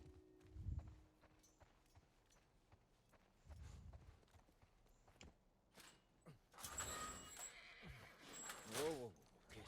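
A horse in The Last of Us whinnies and snorts amid clip-clopping hooves and footsteps, fairly faint in the game mix, with characters talking in between.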